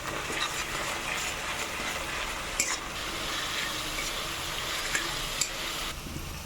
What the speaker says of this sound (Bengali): ভালো করে মশলাটা আবার আমি কষিয়ে নেব।